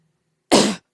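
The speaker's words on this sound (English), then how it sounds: "if I have to clear my throat" A single short, harsh throat clearing close to a microphone, a burst of under half a second after near silence.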